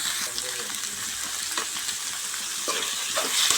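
A spoon stirs a sizzling tempering through mint and onion curry pieces in a pan, with steady frying hiss and scattered scraping clicks throughout.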